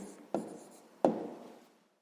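A pen or pencil scratches a short answer onto paper in a quiet room, two quick strokes close to the microphone, each fading out softly.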